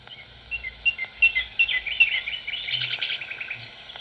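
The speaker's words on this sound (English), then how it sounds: "I haven't heard a nightingale sing for years" A nightingale sings in a quiet setting, a run of clear, separate chirps and whistled notes that speeds into rapid trills, fairly close and alone.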